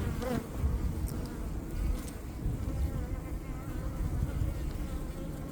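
Honey bees buzzing densely around a small mating nuc in an apiary, a steady close swarm drone filling the whole stretch with no pauses.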